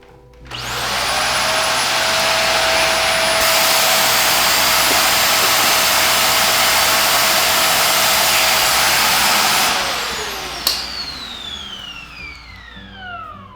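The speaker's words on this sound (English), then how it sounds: "we're going to take our vacuum and quickly suck out probably what is going to be a lot of shells and grinds" A vacuum cleaner whines loudly and steadily for about nine seconds while sucking coffee grinds and husks out of the burr grinder hopper of a Sage Barista Express, then spins down with a falling whine.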